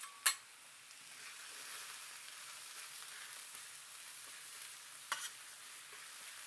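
Onions sauté in a hot pan on a stovetop for a chicken quesadilla, a steady close sizzle broken by a couple of sharp utensil scrapes and clinks as they are stirred, with no talk.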